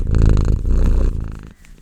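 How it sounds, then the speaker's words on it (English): Close, loud purring in a rapid rhythmic rumble, pausing briefly near the end before resuming softly. "Are you going to be famous for your purring?"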